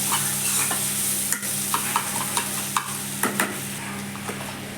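Eggs fry with chopped onions in hot oil as they are stirred, giving a steady close sizzle broken by a few light clicks and scrapes of the utensil against the pan.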